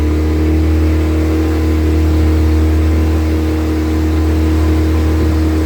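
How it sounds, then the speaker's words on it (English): A steady, loud motorboat engine drone with a low hum runs continuously throughout, no voices, heard up close on a lake. "I've taken a motorboat. I hope you guys actually come here and enjoy it"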